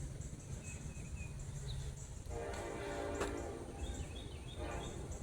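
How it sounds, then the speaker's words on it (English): Train rolling past on tracks right beside a town park, with a horn sounding in the middle; fairly faint and distant, with birds and outdoor ambience. "There's the train."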